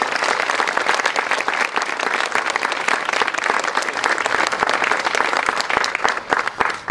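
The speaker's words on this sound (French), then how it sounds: "je vous demande de les applaudir bien fort" Loud, sustained applause from a large audience at a press conference, steady clapping throughout with no talking.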